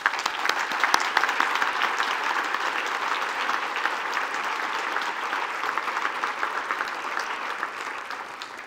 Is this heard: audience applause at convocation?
yes